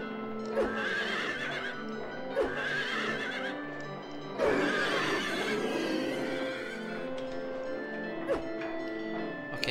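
A horse in the video game Silent Hill 3 whinnies several times in shrill, wavering calls, with a clopping of hooves and a faint dog bark now and then in the background.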